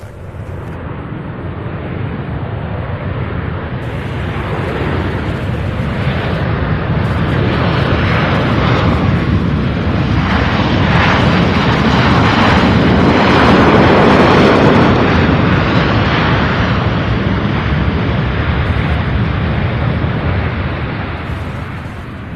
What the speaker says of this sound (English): Beautiful landing there, Southwest.